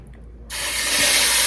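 A pound of 95/15 ground beef hits a preheated Ninja Speedi and bursts into loud, steady sizzling right after a brief quiet moment, staying close and continuous.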